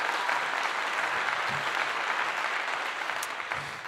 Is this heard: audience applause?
yes